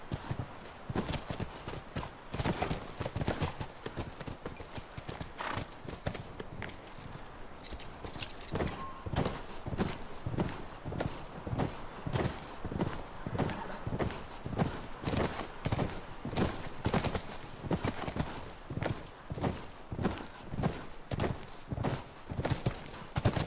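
Horse hooves clip-clop steadily in The Last of Us Remastered, at a hydroelectric dam, a rapid, regular rhythm of close, fairly loud hoofbeats over a continuous outdoor background, with an occasional snort or whinny.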